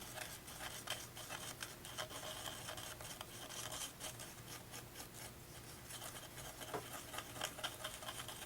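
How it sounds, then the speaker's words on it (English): A small batch of epoxy filler for a turned wooden root platter is stirred close up, giving a steady, continuous scraping and rubbing with no voices. "I'm gonna mix up a little amount of epoxy"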